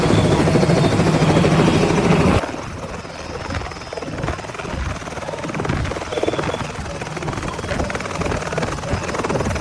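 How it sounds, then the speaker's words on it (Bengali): A helicopter landing on a football field at a local tournament final, a loud rotor thrum and turbine whine close by that drops in intensity partway through and keeps chopping steadily, with faint crowd voices beneath. "আপনারা হেলিকপ্টার ল্যান্ডিং এর শব্দটি শুনে কাছ থেকে দেখার ফিলটি অনুভব করুন।"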